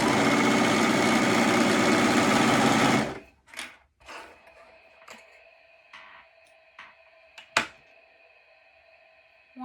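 A sewing machine runs in one fast continuous buzz for about three seconds as it stitches the short ends of the fabric together. It then stops, and sparse clicks and taps of handling follow.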